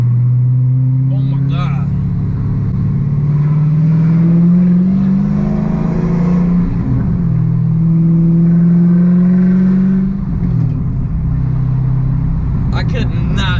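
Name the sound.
Dodge Hellcat Charger with 6-speed manual swap revving, downshifting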